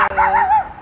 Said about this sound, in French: c'est juste un chien comme toi